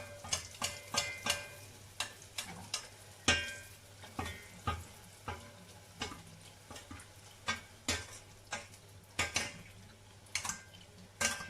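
Moroccan beignet dough frying in a bath of hot oil, with a soft sizzle under a steady pattern of close clinks and taps as hot oil is ladled over it, repeating every second or so.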